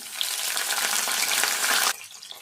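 Onion added to hot oil with garlic, cumin and mustard seeds, sizzling loudly and steadily up close in a dense hiss for about two seconds before dropping off sharply to quieter crackling.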